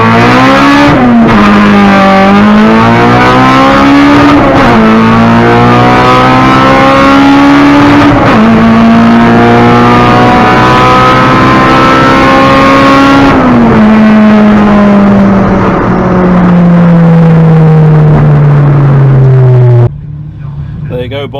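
K-swapped Honda Civic on a drag racing pass, a loud close engine climbing through several gear changes with rising and dropping pitch, then easing off near the end, with talk over it.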